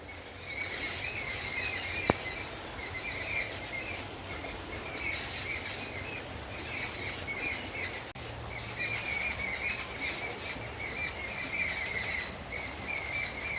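Many birds chirp and tweet continuously at a moderate distance beside the Ganges river in Haridwar, layered over a steady low outdoor rumble, with no voices.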